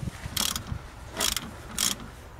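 A small bolt is turned by hand with a tool, giving three short bursts of metallic ratcheting clicks close up, separated by brief pauses, with no talking.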